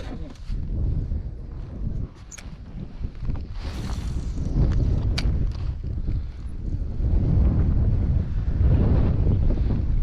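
Strong wind roars steadily into the microphone on a river, heard from a fishing boat, with faint water lapping underneath and no talk.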